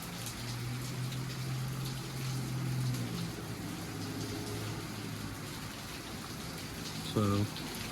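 Heavy rain pours steadily in Pullman, Washington, a dense, even hiss that holds at the same level throughout, with a low hum beneath it and a short tonal blip near the end.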